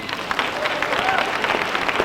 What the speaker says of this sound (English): Give them a hand clap if you would.